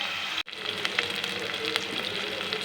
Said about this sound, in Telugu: ఆనియన్స్ వేగిపోయినాయి